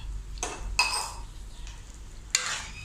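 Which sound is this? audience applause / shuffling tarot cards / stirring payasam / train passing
stirring payasam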